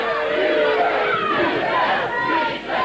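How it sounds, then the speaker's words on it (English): A wrestling arena crowd roars and cheers in a dense, continuous wash of voices and applause, loud and close throughout. "Hearing that applause."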